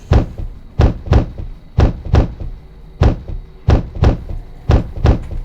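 A creature in a video game pounds on a sturdy door in loud, heavy thuds, coming in uneven clusters of two or three blows with short pauses between them.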